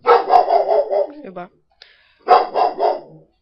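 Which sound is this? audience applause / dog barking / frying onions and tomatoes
dog barking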